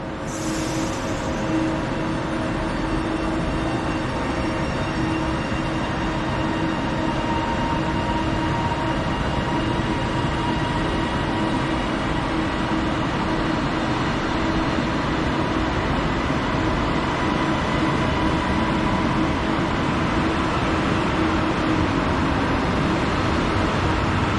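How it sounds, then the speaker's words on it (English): A Class 397 train, unit 397003, pulls away from Preston station in a loud, continuous rumble and whine of traction motors and wheels on rail that holds steady for the whole stretch, with no talk over it. "Off goes 397003 on the delayed 1648 to Manchester Piccadilly."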